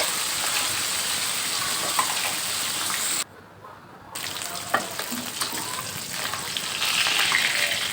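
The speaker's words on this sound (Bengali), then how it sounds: "আমার এক পাশ মাছটা ভাজা হয়ে গেছে তো আমি একটা খুন্তির সাহায্যে উল্টিয়ে দেব সবগুলো মাছ" Small Japanese puti fish fry crisply in oil in a pan and get flipped with a spatula, making a steady close sizzle that drops briefly to near quiet, then returns with light scraping and clinks.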